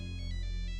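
A mobile phone's ringtone plays as a steady, loud electronic melody with repeating tonal bursts and no voices over it.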